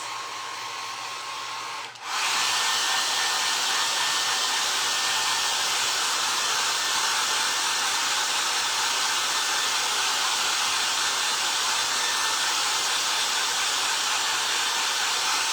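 A hair dryer blasts at a craft project, a Dollar Tree box clock, switching on after a brief quieter moment and then roaring with a steady, loud, even hiss to the end.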